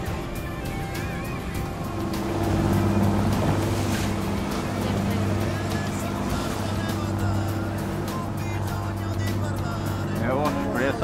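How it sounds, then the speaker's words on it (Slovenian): A tugboat tows a huge cruise ship out of Venice, its low engine drone and hum of the vessel steady beneath water wash, while people talk over it throughout. "vlačilec vleče ladjo"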